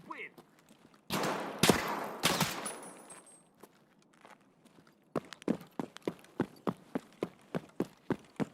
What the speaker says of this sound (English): Shots outside.